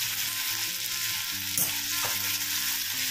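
Ginger garlic paste sautés in a pan over a medium flame for a dry prawn dish, hissing in an even, close sizzle with a couple of brief stirring scrapes.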